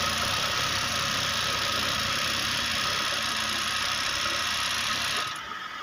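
An overlock sewing machine runs steadily at high speed, a loud continuous close whirring hum with no breaks, easing off slightly at the very end.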